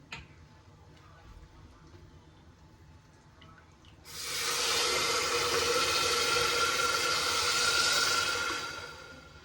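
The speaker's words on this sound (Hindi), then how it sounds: "4 कटोरी में डाल दूंगी इसके अंदर पानी" Water pours into a cooking pot holding mangodi (dried moong lentil dumplings) and rice, a steady broadband rush that starts abruptly partway through, runs loud for about four seconds, then tapers off.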